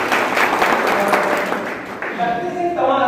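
Applause from a gathered audience at a training session, a dense burst of clapping that fades after about two seconds as a voice begins speaking.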